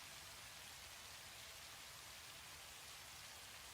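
Heavy rain falls at night in the video game Satisfactory, a steady dense hiss of rainfall that runs unbroken and even throughout, with no voices.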